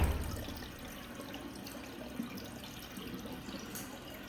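Rinse water is poured out from a rice cooker pot while washing rice, a soft close splashing and trickling flow that stays faint and steady throughout.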